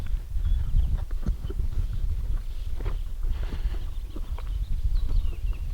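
A horse shuffling and stepping on grass while grazing outdoors, soft irregular hoof thuds and muffled clomps under a steady low wind rumble, no talking.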